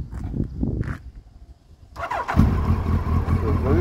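A Suzuki GSX1300R Hayabusa motorcycle cranks over and fires up, a few short starter bursts giving way to a steady, close engine idle that fills the rest of the clip.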